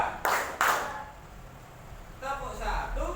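Two sharp, loud hand claps from a group playing a counting clap game during a classroom icebreaker, spaced close together near the start, followed by quieter voices talking.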